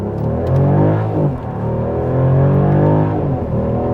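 A 2024 Mercedes-Benz CLE 450 Coupe in sport mode revs hard from first gear and climbs through rising pitch, drops briefly at a gear change, then surges again, loud and close.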